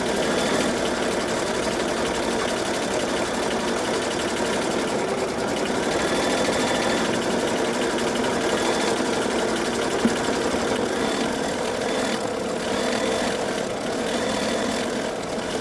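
An in-the-hoop embroidery machine stitches the back of a mini notebook cover in a steady, dense mechanical whir with a fast stitching rattle. It is loud and close and runs without pause.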